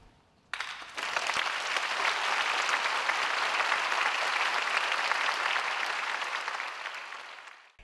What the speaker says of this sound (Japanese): 団員の思いが込められた演奏は会場に届き、大きな拍手が送られました